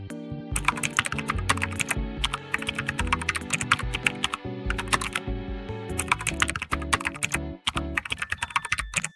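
Rapid typing on a computer keyboard as CSS code is entered, dense irregular clicks and key taps in quick bursts with short pauses, close and crisp, no talk.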